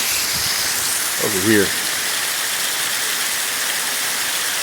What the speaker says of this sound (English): As you can see the stream behind me